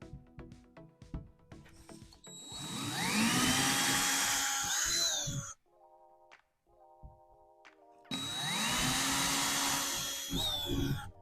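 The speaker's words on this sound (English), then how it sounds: "So I'm just going to drill the holes for the ones that need anchors." A power drill bores holes into a wall for anchors. Two long, loud whining runs with a short pause between them, close up, with light clicks and handling noise around them.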